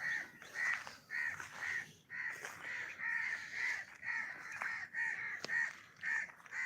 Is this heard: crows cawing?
yes